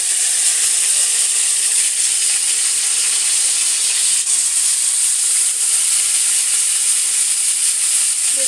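Washed chopped vegetables in a hot pan give a loud, steady, bright sizzle that hisses on unbroken, close up, with no voices.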